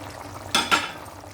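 Moong dal fritters (punugulu) drop into a simmering stew in a pot, landing as two quick soft splashing plops close together over a faint background bubbling.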